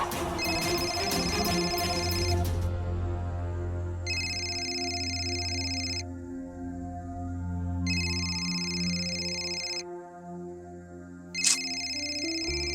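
In a Marathi TV serial, a mobile phone rings in repeated bursts of electronic tone separated by short gaps, sounding over soft background music. No one speaks.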